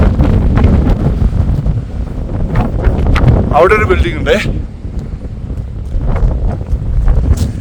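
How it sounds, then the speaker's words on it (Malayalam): Strong wind roars and buffets the microphone nonstop near a lake at Sela Pass in Arunachal Pradesh as someone speaks, his voice partly swallowed by the gusts. "കാറ്റുകൊണ്ട് ഒന്നും പറഞ്ഞാൽ കേൾക്കുന്നില്ല."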